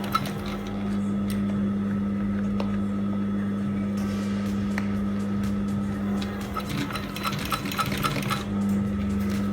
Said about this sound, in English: we are sewing the leather and the chipboard together